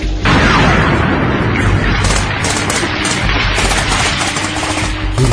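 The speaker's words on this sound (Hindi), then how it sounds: "पूरी सिरिजाप घाटी में तोप और मोर्टारों के गोले इस तरह फट रहे हैं जैसे आसमान में बिजली चमक रही हो।" Artillery and mortar shells explode in a dramatized mountain-valley battle, a dense barrage of booming blasts and rapid gunfire-like cracks, loud and close, rolling continuously with no pause.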